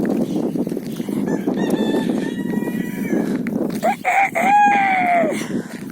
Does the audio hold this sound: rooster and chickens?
yes